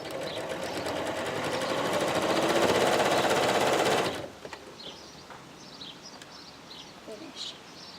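A sewing machine stitches a bulky skirt seam through pockets and interlining, a fast steady whirring run of about four seconds that stops abruptly, leaving faint birdsong in the background.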